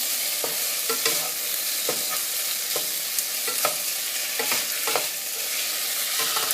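Lunch ingredients frying in a pan, a constant bright sizzle with soft scraping stir strokes at an irregular rhythm, close up, with no talking.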